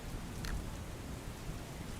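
Continuous heavy monsoon rain in Sabarkantha, Gujarat, hissing evenly, a dense wash of drops with no voices over it.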